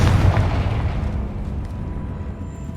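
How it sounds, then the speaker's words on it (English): A Confringo fire spell bursts in Hogwarts Legacy, a close, loud booming blast that hits at once and then trails off into a rumbling, crackling decay. "Confringo."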